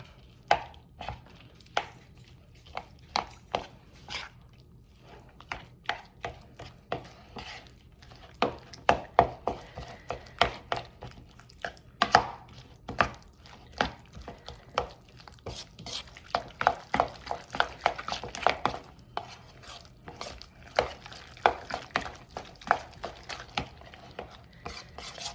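Ingredients being mixed with mozzarella cheese, giving a long run of close, uneven scraping and knocking of a utensil against a bowl or dish; steady and fairly quiet, no talking.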